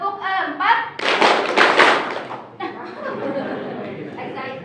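A group clapping pattern called tepuk 4 at a training session: a burst of rhythmic claps from many hands, followed by chatter and talk.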